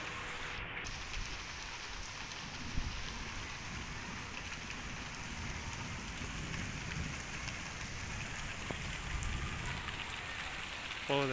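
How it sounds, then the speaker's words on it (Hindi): Steady rain falls in a village, a dense continuous hiss of drops on surfaces that stays even throughout, with no voices. "बारिश आ गई है, अपना सामान वगैरह समेटना शुरू हो गया।"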